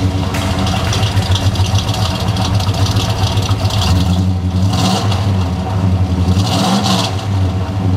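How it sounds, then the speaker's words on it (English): A 1972 Chevrolet C10 truck with a jet hot-coated exhaust system gives a loud, steady, deep rumble that runs throughout, with a couple of brief rev swells partway through. "The motor has smooth and reliable power, complemented by a nice rumble from the jet hot-coated exhaust system."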